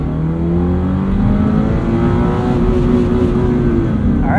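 A 2022 Subaru BRZ fitted with a 4.3 rear differential pulls hard in second gear up to redline, its engine note rising steadily and loud throughout with no talk over it.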